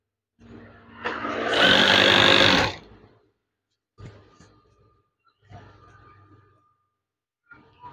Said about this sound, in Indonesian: Jahit hingga akhir bahan ini.